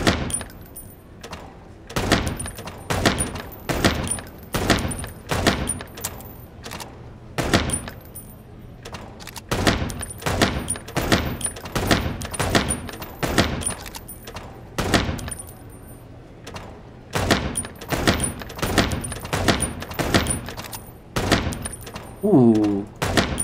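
Rapid bursts of gunshots from the video game Chicken Police: Paint it Red, sharp close reports in irregular clusters throughout, with faint music underneath and a brief voice near the end.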